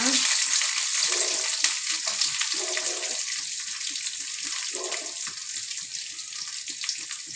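Sliced onion frying in hot oil in a home kitchen pan, giving a steady, close, dense sizzle with a bright crackling hiss that holds at an even level and has no talk over it.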